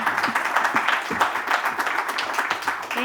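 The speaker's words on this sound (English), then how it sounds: "Can I have another round of applause?" Audience applause after a panel on cloud and technological security at a USIBC India Ideas summit, a steady broadband clatter of many hands clapping throughout, with faint voices mixed in underneath.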